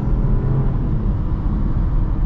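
A 2025 Chevy Trailblazer Activ with a CVT pulling away on the road, a steady low engine rumble and road drone heard from inside the cabin, loud and even with no talk.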